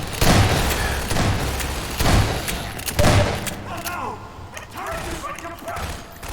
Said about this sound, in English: I forgot that all the turrets blow up after this part